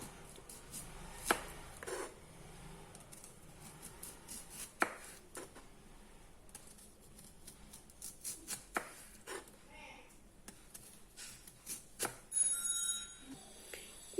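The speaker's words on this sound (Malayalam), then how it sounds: "ഇനി നമുക്ക് ഈ സവാള വട്ടത്തിൽ അരിയണം." A knife slicing an onion into rounds on a board in a home kitchen, irregular soft taps and crunchy cuts, faint and close, with scattered clicks in between.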